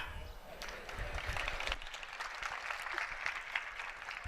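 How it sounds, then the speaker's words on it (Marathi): An audience applauding at a folk poetry recital in a college hall, a broad wash of clapping that swells and holds for a few seconds, with some crowd murmur underneath. "समजलं की टाळ्या वाजवा"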